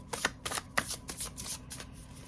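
Close riffle-shuffling of a card deck: a quick series of crisp, fluttering bursts in a steady rhythm, no voices.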